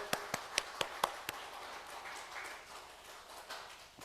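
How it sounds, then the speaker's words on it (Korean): Congregation at a Korean church service claps, starting with a handful of sharp, distinct hand claps in quick succession, then trailing into a soft, sparse patter. "모두들 우리 박수"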